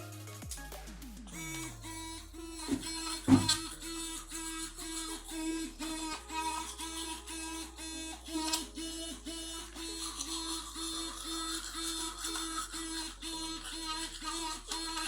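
An electric toothbrush hums and buzzes close by during a morning routine, a steady motor whine that shifts pitch now and then, with faint clicks and no speech.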